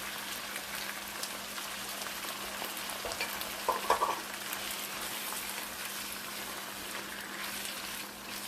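Fresh skinless tomato slices go into a hot frying pan for an Arabic chicken stew, giving a steady, fairly quiet sizzle and crackle with a brief clatter of stirring partway through.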